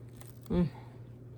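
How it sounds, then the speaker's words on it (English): A single loud crunchy bite into the crust of a homemade bread loaf, one short burst standing out over steady low background hum. "Listen to that crunch."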